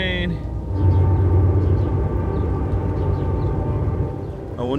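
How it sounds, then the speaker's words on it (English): A train passes at a distance by a lakeside campsite, a steady low rumble and rolling roar holding level for several seconds, with a drawn-out horn-like tone beneath and faint far-off calls above. "Here comes a train."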